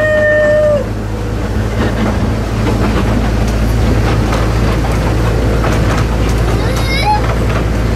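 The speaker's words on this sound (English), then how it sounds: "Are you on a steam engine at Saltburn?" Steam locomotive at Saltburn, heard as a loud, steady low rumble and rattle of the train in motion, with faint whistle-like tones at the start and children's voices talking over it.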